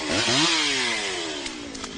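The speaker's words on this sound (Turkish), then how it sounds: "İşte ekipler testere getirdiler şimdi ve yol açmaya çalışıyorlar kendilerini." A chainsaw roars steadily up close, cutting branches during a forest fire at Gelibolu, Turkey, its pitch sliding down as the blade bites into wood, with a few faint clicks near the end.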